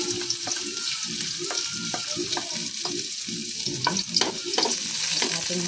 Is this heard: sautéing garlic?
yes